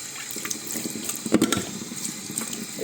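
Tap water runs into a sink while a vacuum cleaner brush is rinsed, a steady close splashing flow with small knocks and bumps as the brush is handled, and no talk.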